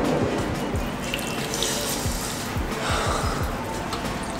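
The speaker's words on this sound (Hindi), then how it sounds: "पहली बार ऐसा हो रहा है कि बॉम्बे में नल से ठंडा पानी आ रहा है." Water pours steadily from a tap into a sink nearby, a continuous splashing rush with faint breathing underneath.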